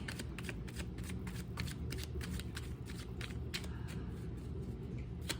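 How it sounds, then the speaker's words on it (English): A deck of cards is shuffled steadily and at length, a soft continuous riffling with repeated crisp flicks over a low background hum, quiet and close, with no voices. "This one's going to be a long shuffle."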